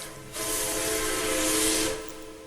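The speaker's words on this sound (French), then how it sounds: "Est-il venu dans un train qui sifflait?" Steam train whistle blowing a sustained, slightly wavering tone over a hissing burst of steam, starting abruptly and fading after about a second and a half, loud and close.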